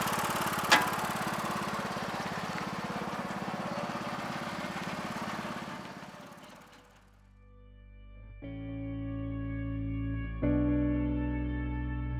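A tractor engine idles with a steady, rough rumble for several seconds, then fades away as music with sustained tones takes over.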